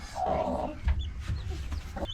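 A hen clucks close by beside newly hatched chicks, a short burst of low clucks followed by scattered soft peeps and small rustles, fairly quiet.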